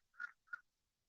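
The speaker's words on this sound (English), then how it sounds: "Must be a duck." A duck on a park pond gives two quick nasal quacks, faint and somewhat distant in otherwise quiet surroundings.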